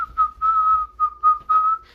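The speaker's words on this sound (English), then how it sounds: "he's whistling" A man whistles a short, lively tune in several quick bursts, clear and close with nothing else behind it.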